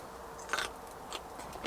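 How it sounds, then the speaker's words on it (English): Close, soft crunching as someone bites and chews cooked broccoli, with a few crisp bites over a steady low background and no talking. "Nice bit of crunch to the broccoli."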